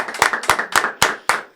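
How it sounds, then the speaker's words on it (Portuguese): A few people clap for a guest in a podcast studio, producing loud, sharp, evenly spaced claps in a quick rhythm, close by. "eu vou pedir uma calorosa salva de palmas aqui da produção"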